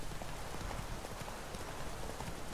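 Steady rain in The Witcher 3 patters densely and evenly throughout, a continuous hissing wash of drops with no voices.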